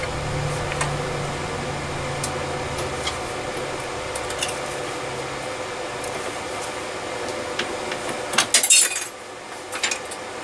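Triumph Reborn shearing wheels slicing through 1.2 mm sheet material: a steady mechanical hum runs throughout, ending in a brief burst of sharp metallic crunching and clinking as the cut finishes, with no talking.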